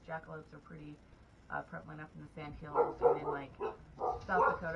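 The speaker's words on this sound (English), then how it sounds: "please excuse the barking dogs." Dogs bark intermittently in the background, repeated short barks and yips partly masked by a person talking steadily over them.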